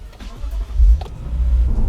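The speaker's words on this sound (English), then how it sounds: "now it's time to test drive the car and see how well this car performs" A Lexus RC-F luxury coupe on a test drive gives a brief low engine rumble that swells and settles, heard from inside the cabin over a couple of seconds.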